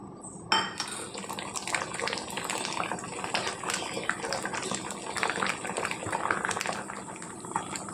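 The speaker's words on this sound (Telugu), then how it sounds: "ఇప్పుడు గుడ్డు మిశ్రమాన్ని ప్యాన్లో వేసుకుందాము." Beaten egg mixture hitting a hot oiled pan for a masala vegetable omelette, giving a steady broadband sizzle and crackle that starts abruptly and continues throughout, with light clinks of utensils against the pan.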